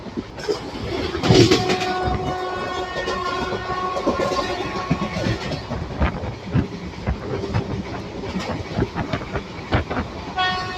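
Koyna Express runs through Rukadi station on the Kolhapur–Satara line, heard from on board as a continuous rumble with a steady clickety-clack of wheels, a brief horn near the start and sharp rail clanks.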